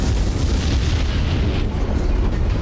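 A MiG-15 is shot down by an A-10 in the DCS flight simulator, giving a steady, loud, rumbling explosion roar with dense low boom that persists without letup, no voices over it.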